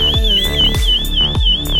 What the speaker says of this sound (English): Hold on the SOS button to trigger the alarm.